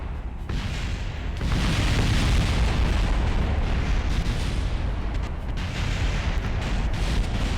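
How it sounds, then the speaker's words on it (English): A rocket blowing apart in Kerbal Space Program during a structural failure, a loud sustained roar of blast and rumble that swells after a brief lead-in and keeps crackling at full strength to the end, with no talking. "Took all that time just for it to fucking explode."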